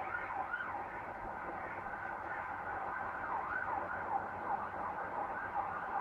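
An ambulance siren wails at a roundabout, its repeating rising and falling tone carrying steadily over low traffic rumble, moderately loud and with no voices.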